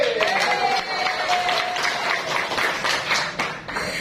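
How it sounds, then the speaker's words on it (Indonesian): Audience applause at the opening of a PDAB Tirtatama training session, a steady wash of clapping filling the room for several seconds, with a presenter's voice rising faintly over it. "Tepuk tangan untuk PDAB."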